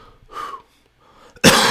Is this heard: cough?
yes